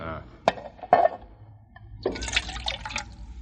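Water poured from a canvas water bag into a pan, a radio drama effect: a couple of sharp taps and a brief voice sound come first, then a short splashing pour of liquid.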